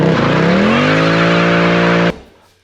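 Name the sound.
Mercedes C63 AMG 507 estate exhaust with secondary cat delete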